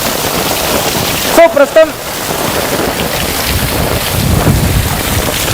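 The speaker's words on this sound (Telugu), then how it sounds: "మనం చూస్తున్నాం చాలా తీవ్రమైనటువంటి వర్షం అండ్ గాలి కూడా" Heavy rain and gusting wind during a hailstorm in Hyderabad, a steady dense roar of rainfall across the clip, briefly broken by a short burst of nearby speech and clatter around the middle.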